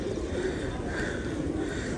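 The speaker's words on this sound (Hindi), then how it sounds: "कितने कबूतर है यहाँ पे, और काफ़ी बहुत ज़्यादा कबूतर है।" Pigeons coo softly and repeatedly in the crowded Karni Mata rat temple in Bikaner, Rajasthan, low throaty calls that overlap within a dense wash of ambient murmur.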